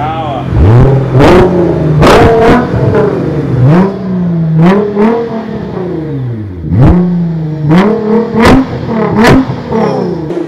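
A 720bhp Nissan GTR engine revs hard in loud, rising and falling bursts at close range, with several sharp blips and the rumble dropping between them.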